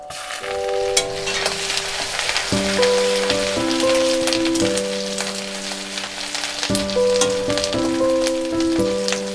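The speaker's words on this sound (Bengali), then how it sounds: "এবার একটা চামচ আদা কুচি দিয়ে দেবো" Steady, loud sizzling of chopped ginger frying in hot mustard oil and butter, continuous throughout with a soft crackle, while background music plays over it.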